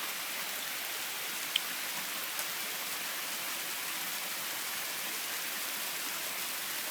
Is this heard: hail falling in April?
yes